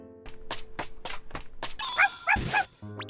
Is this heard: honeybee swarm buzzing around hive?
no